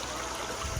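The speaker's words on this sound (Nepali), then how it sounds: "ठुलो झरना छ है" Steady rushing water from the Shaktikhor waterfall, a continuous close broadband wash with no voices.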